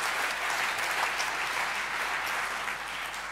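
Steady, dense applause fills a conference hall during lightning talks at a Python programming conference, sustained and even throughout without any voices over it.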